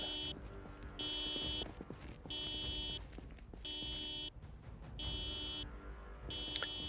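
A car alarm in the video game Project Zomboid sounds off in a repeating on-off pattern, with steady electronic tone blasts of about a second each separated by brief gaps, over a low background rumble.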